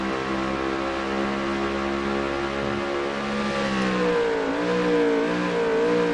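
A race car in a racing video game revs steadily through the gears, its engine a loud continuous drone that drops and climbs in pitch with each shift, heard alone.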